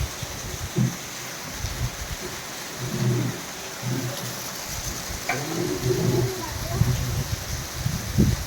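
Steady rain falls as a broad, even hiss, with voices talking over it and a few brief knocks.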